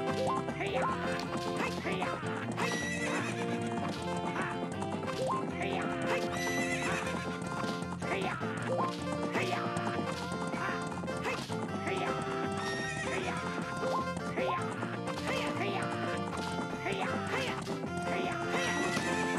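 Horse hooves clatter and whinnies ring out over loud, busy game music that plays nonstop throughout, from Ocarina of Time.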